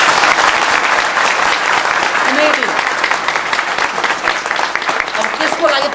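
An audience claps at a spiritual discourse by a teacher, a dense, loud burst of applause lasting several seconds with a speaking voice running over it.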